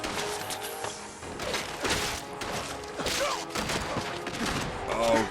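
Grenade blasts and gunfire during a Fallout 4 Nuka-World fight, a chaotic run of thumps, bursts and crashing impacts spread throughout, mixed with game voices and talk.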